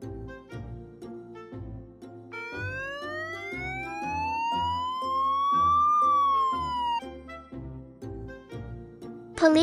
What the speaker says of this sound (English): Police motorcycle.